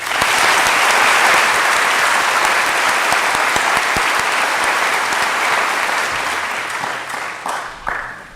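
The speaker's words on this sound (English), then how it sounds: "Please join me in a round of applause for these individuals." Sustained, dense applause from a large audience at a high school commencement ceremony, loud and steady throughout before tapering slightly near the end.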